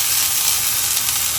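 Coconut oil sizzling in an iron pan with fenugreek and nigella seeds, a steady, close hiss of frying with no one speaking.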